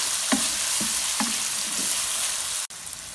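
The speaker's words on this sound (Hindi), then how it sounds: "ये हमने लहसुन अदरक का पेस्ट डाल के भून ली है।" Garlic ginger paste fries in a pan with a constant dense sizzle. Soft stirring scrapes land about every half second, and a brief break comes near the end.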